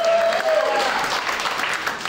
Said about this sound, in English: now a round of applause, everybody